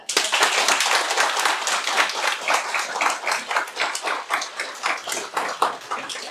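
An audience at a talk on small amateur, model and student rockets claps loudly for the speaker, a dense burst of applause that gradually thins into scattered, uneven claps.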